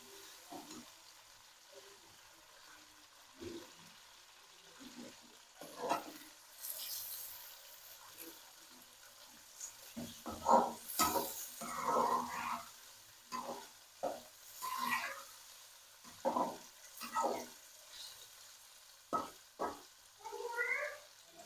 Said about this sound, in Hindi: चिकन को हमने ऐड कर लिया, अभी इसको अच्छी तरीके से मिक्स कर देंगे।